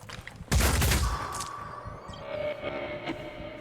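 A short, loud volley of gunfire bursts out in Phoenix Point, Terror from the Void, then fades into scattered echoes and lighter impacts.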